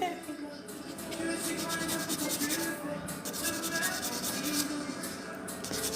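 Steady abrasive rubbing of a fine nail file smoothing a fingernail surface already sanded with an electric sander, a continuous close scratchy texture lasting throughout, with soft talk faintly underneath.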